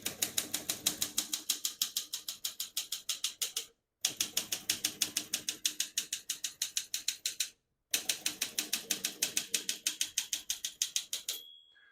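A 1961 Olympia SM7 portable typewriter types in three rapid bursts of crisp, evenly spaced keystrokes, each ending briefly before the next. A clear bell rings near the end as the margin is reached, close and distinct with no talk.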